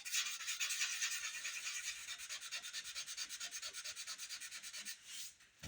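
Sandpaper rubs back and forth across a Les Paul style guitar body with pearl dust finish, a close, steady rhythmic rasp of repeated even strokes that slows and fades near the end, with no talking.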